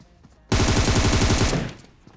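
Automatic gunfire in the mobile game PUBG Mobile, a loud rapid burst of close shots lasting about a second that trails off into a short fading echo.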